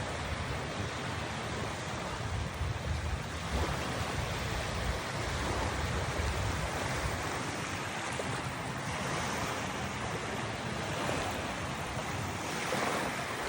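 Sea waves wash steadily onto a crowded tourist beach, a continuous loud roar of surf mixed with wind noise on the microphone, with no pause across the whole stretch.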